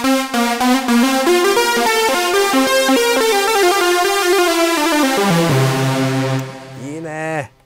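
A bright Roland AIRA System-1 synthesizer line, running the SH-101 plug-out, with dense harmonics and a lush, lingering reverb tail, ending in a gliding pitch bend before fading out.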